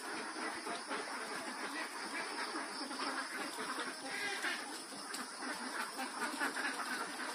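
Layer ducks kept in pens on a duck egg farm, a dense continuous chorus of many quacking birds heard from within the flock, steady and fairly loud with no talk over it.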